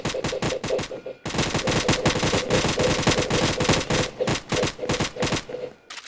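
Automatic gunfire in a Roblox game, loud close bursts of rapid evenly spaced shots, with one brief pause early on and short breaks between later volleys.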